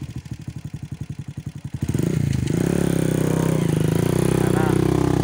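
A motorcycle engine idles with a steady thumping pulse, then revs up and settles into a loud, continuous running drone as the ride begins on a mountain road.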